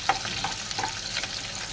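Eight to ten garlic cloves fry on a low flame, giving a steady soft sizzle broken by a few scraping stirs of a spoon in the pan, close by with no voices.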